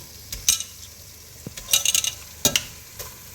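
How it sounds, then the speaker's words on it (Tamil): Chicken goes into a pan with yogurt and is stirred, giving a soft background sizzle broken by several sharp scraping and clattering bursts of a spoon against the pan, close and unaccompanied by talk. "கழுவி வச்சுருக்க சிக்கனை அழகாக போட்டுக்கணும்"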